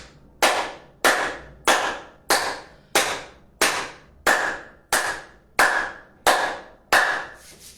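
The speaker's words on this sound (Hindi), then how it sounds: "तालियां।" Eleven loud, evenly spaced hand claps ring out one after another at a steady, slow rhythm, each crisp and close, with short ringing decays between them and no talking.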